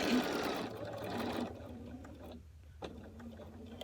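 A sewing machine stitching a quilt seam on a pumpkin quilt block, its motor whirring steadily then slowing and stopping near the end of the seam, with a brief restart, close and moderately quiet, no speech.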